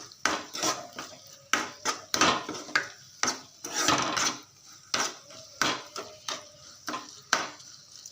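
A spoon scrapes and clanks against a pot while drumstick curry is stirred, giving repeated rhythmic metal knocks and scrapes, close and fairly loud, with no talking.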